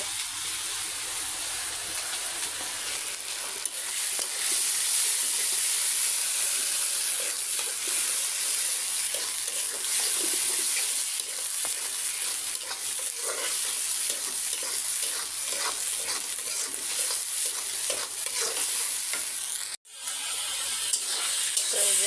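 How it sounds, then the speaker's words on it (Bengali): Red amaranth greens, boiled beforehand, frying in hot oil with a loud, continuous sizzle and the scrape of stirring, close up, with a short break near the end. "শাকটা আমি তেলে দিলাম"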